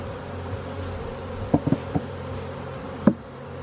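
Honeybees buzz continuously around an open hive during an inspection one week after installation, a steady close hum broken by a few sharp knocks from handling the frames.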